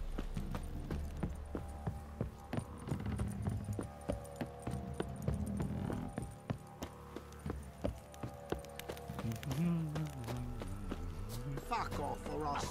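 Horse hooves clip-clop at a walking pace in the medieval fantasy video game The Witcher 3: Wild Hunt, moderately close and rhythmic, set against background music and occasional game sounds.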